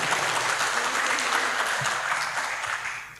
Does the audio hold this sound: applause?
yes